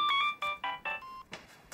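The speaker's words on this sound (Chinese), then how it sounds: "又有电话了" A phone's melodic ringtone plays in a Chinese family TV drama: a short sequence of bright, rhythmic electronic notes, close and clear, with no talk over it.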